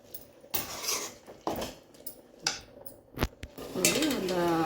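A metal spoon scrapes and clanks against a pan while stirring chicken ghee roast, in loud irregular strokes with pauses between them. A voice speaks briefly near the end.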